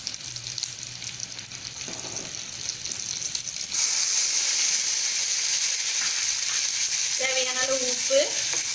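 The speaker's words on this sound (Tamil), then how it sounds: "நம்ம இந்த கல் பருப்பு, உளுந்தம்பருப்பு, கடுகு எல்லாத்தையும் போட்டுக்கலாம். கருவேப்பிலை போட்டுக்கலாம்" Chana dal, urad dal, mustard seeds and curry leaves drop into hot oil for tomato chutney, and the faint background hiss swells into a loud, steady sizzle. A brief voice is heard near the end.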